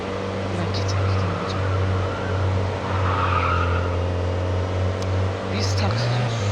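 In the Madout2 video game, a taxi drifts at speed with a sustained engine drone and long screeching tire squeal, loud and continuous, while a voice talks over it.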